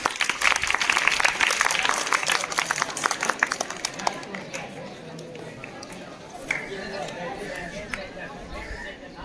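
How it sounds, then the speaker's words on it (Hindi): An audience at a quiz competition claps for a young contestant, loud dense applause for several seconds that gradually thins into scattered claps and crowd chatter. "गुड, इस बच्चे के लिए ताली बजाइए आप"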